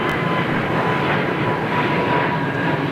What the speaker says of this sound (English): Now it's 747, sounds like he's got his APU running.